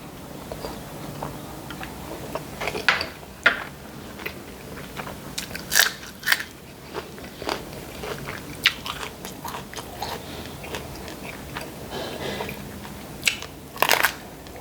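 Close crunching bites and chewing of crisp fresh vegetables eaten with chili canned fish and a fried egg, irregular crisp crunches scattered over a quiet background, with a cluster of louder bites near the end.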